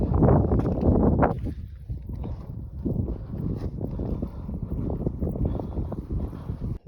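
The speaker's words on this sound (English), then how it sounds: "Clouds blew in. There's a wind." Wind on a high mountain climb in Montenegro buffeting the microphone in loud, gusty rumbling waves that ease slightly after the first second and keep blowing steadily.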